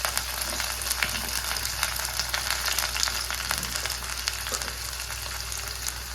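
Onion and curry leaves sizzle and crackle steadily in hot oil close by, a continuous hiss dotted with small pops.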